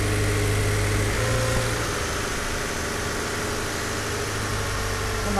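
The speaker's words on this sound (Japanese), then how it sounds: "今エンジンかけてみましたけどね、結構かかりもスムーズで" Toyota 86 2.0 GT with a six-speed manual, idling smoothly right after starting, a steady, even engine hum heard close and alone, with no talk.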